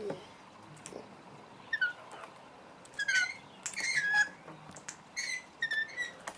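A juvenile male Australian king parrot on a verandah gives sharp, whistled squawks and chirps in scattered bursts, some loud and close, separated by quiet gaps over faint background noise.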